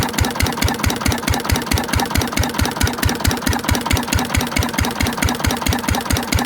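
An antique single-cylinder Witte diesel engine runs under a light flywheel friction load, thumping in a fast, even beat of loud, close exhaust pulses with mechanical clatter.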